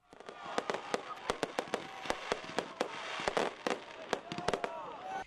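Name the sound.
fireworks going off at homecoming parade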